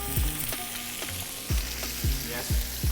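Food fries in unsalted butter in a pan, making a steady, close sizzle broken by several sharp knocking thumps spaced roughly half a second apart.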